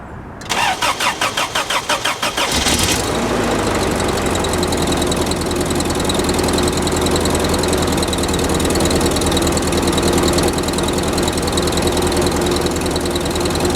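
An old Toyota 22RE engine cranks with a rapid rhythmic churning for about two seconds, catches, and settles into a loud, steady idle that continues to the end.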